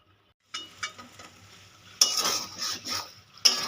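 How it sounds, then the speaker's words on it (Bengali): Fried pointed gourd being stirred in a pan for a curd gourd dish: a quiet start, then scraping stirs and a louder sizzle building from about two seconds, with a sharp clatter near the end. "দিয়ে আমি এটা সুন্দরভাবে নেড়ে নেব"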